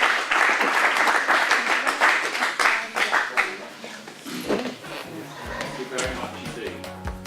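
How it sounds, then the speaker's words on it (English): Applause from an audience at a Rotary Club youth speaking competition, a few seconds of dense clapping that thins out and gives way to a voice speaking. "Can we give Kai and Connor a round of applause?"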